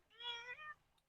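An elderly cat meows once in a British tropical-style garden in Hampshire, a drawn-out, fairly clear call close by, with no talking over it.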